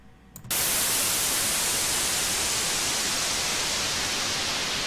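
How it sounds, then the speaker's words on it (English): After a brief quiet moment, a loud, steady hiss of synthesized white noise switches on abruptly and continues unbroken to the end. "it's so easy to create a nice white noise effect"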